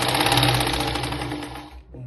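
A sewing machine runs steadily while stitching a blouse sleeve, its rapid mechanical rattle continuous and close for about two seconds before stopping abruptly.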